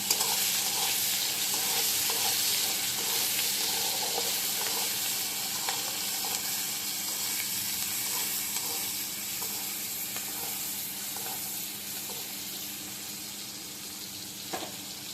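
Mango chicken ingredients fry in a pan with steady sizzling and a soft scrape of stirring running throughout, close and continuous, with no talk.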